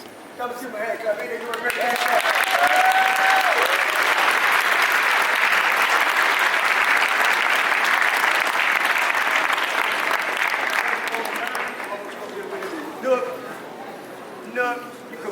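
Sustained crowd applause from an outdoor wellness and farming gathering, loud and steady for about ten seconds before fading into scattered talk and a few bursts of voices.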